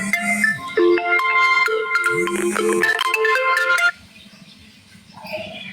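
A mobile phone ringtone plays loudly: a bright melodic electronic tune of repeated tones for about four seconds, then cuts off abruptly, leaving faint room noise and a soft murmur.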